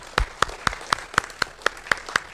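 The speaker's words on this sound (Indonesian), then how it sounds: "Tepuk tangan." Audience at a martial arts and breathing gathering clapping in slow, evenly spaced unison beats, about nine crisp claps in a steady rhythm.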